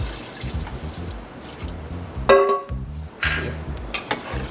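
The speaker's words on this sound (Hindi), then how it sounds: "अब मैं इस स्टेज पे इसके अंदर ये यखनी जो हमने तैयार करके रखी थी ये इसके अंदर ऐड कर देना।" Mutton stock (yakhni) is poured into a pot of biryani masala, giving a close, uneven trickling and splashing with bubbling sizzle beneath and a few clinks of the pot.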